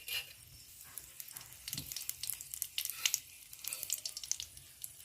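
Two dry red chillies fry in hot mustard oil in a wok, giving a soft, crackling sizzle with scattered small pops throughout.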